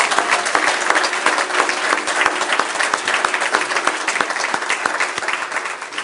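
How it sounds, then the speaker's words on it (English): A crowd at a public housing action assembly in Missoula applauds city representatives, with loud, dense clapping that holds steady throughout and no talking over it. "can we give one last round of supportive applause for our city representatives that came and shared with us?"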